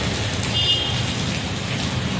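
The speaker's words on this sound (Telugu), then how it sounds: "మంచిగానే వర్షాలు పడుతున్నాయి" Steady monsoon rain pours down in a dense, even hiss of drops hitting surfaces, loud and continuous for the whole stretch.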